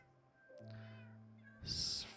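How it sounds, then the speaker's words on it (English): Cats meow in the Minecraft video game, with a drawn-out meow followed by a brief burst of other game sound. "Cat's all here."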